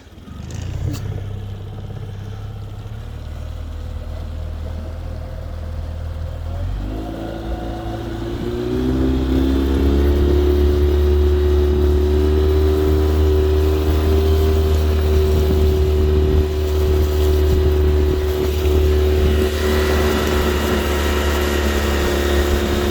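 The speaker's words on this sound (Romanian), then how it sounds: "S-a încălzit și motorașul." A small boat outboard motor idles, then revs up around the midpoint into a steady, loud drone that holds to the end, with faint background noise, on the Danube.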